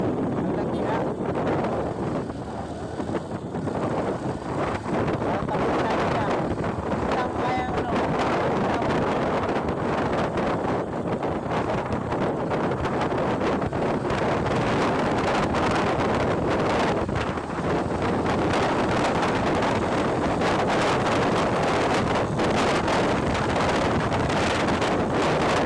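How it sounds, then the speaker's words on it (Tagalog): Strong wind buffets the helmet microphone during a motorcycle ride on a highway near Manggahan, a continuous loud roaring rumble that drowns out all other sound for the whole stretch. "Sobrang lakas ng hampas ng hangin."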